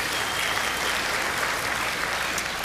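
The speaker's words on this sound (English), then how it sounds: "You didn't need to clap for that, but thank you." A church audience gives a brief, steady round of applause, a thick even texture of many hands clapping with no pauses or voices.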